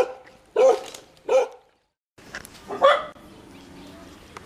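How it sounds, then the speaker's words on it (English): Street dogs in Thailand barking, two short sharp barks close by followed by a quieter bark and rougher yelping amid outdoor background noise. "dogs when they bark at me. Especially not street dogs."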